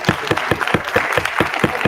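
A small audience at a business leadership reception gives a short round of applause, individual claps sounding close and distinct in a quick, uneven rhythm.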